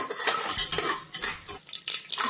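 Mustard seeds, urad dal and chana dal fry in ghee, with a close, busy crackle and sizzle as a spoon stirs and scrapes against the pan, the clatter coming in irregular bursts without any voices.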